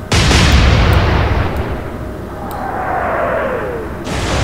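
Heavy naval ship guns fire in the Atlantic Fleet game, a loud broadband boom that sustains and rumbles for several seconds, with a whistling shell tone sweeping downward and a second burst near the end.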